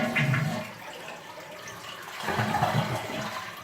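A toilet is flushed to drain the water from its tank, making a brief rushing gurgle that eases, then surges again as water runs down the bowl, close and without talk.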